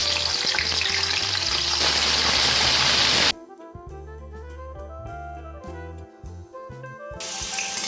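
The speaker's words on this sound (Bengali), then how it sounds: "উচ্ছেগুলো আমি ভেজে নেব প্রথমে।" Loud, steady sizzling of bitter gourd frying in hot mustard oil in a wok for a few seconds, then it cuts to music.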